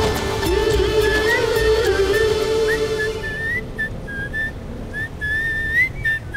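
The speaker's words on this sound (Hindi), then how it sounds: "फिर भी खुशी में सीटी बजा रहे हो" A man whistling a cheerful tune in short, sliding phrases, clear and close over background music.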